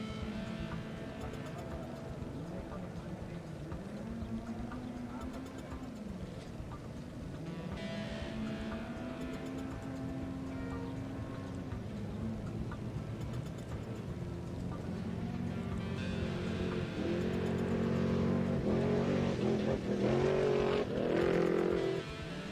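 Car number 5801 pulling off the start line at the NORRA Mexican 1000 off-road race, engine revving and rising in pitch through gear changes, growing louder toward the end, with commentary talk over it.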